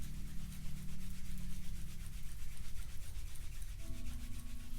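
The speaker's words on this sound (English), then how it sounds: "We're going to rub our hands together, creating some heat." Palms rub briskly together in a continuous dry, close swishing friction that holds steady and loud throughout, with no talking.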